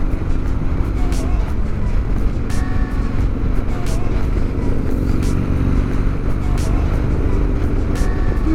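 2003 Harley-Davidson Sportster 1250 motorcycle with a rebuilt top end running nearby, a steady loud throbbing idle with occasional small revs, while someone talks over it.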